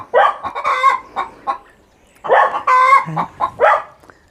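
A hen clucks loudly and close by in two bursts of rapid, squawky calls separated by a short pause.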